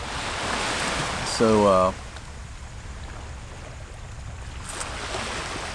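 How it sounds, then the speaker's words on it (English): Ocean waves wash steadily in the background as a continuous broadband surf hiss, with a voice briefly speaking over them near the start. "Got the waves in the background."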